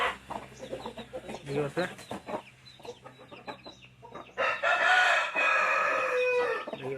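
Chicks and chickens cluck and cheep close by, with a loud burst of squawking toward the end, while someone talks over the birds.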